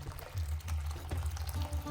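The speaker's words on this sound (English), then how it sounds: "We're going to pour some boiling water into that." Boiling water pours into salt in a jug in a home kitchen, a steady close stream over a low hum with no talking.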